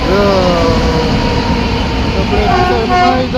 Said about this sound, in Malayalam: ഈ ഒരു ഹോങ്കിങ് കേൾക്കാൻ വേണ്ടി മാത്രമാണ് നമ്മൾ ഇതിനെ കാത്തിരുന്നത്.